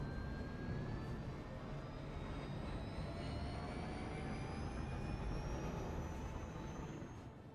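Spaceship touching down in a video game, a steady loud broadband engine roar with rising whining tones that holds evenly throughout, no voices.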